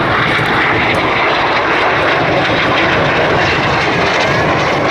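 Display team jets fly past at an airshow, a loud, continuous roaring engine rush that fills the whole span without letup, with no voices audible.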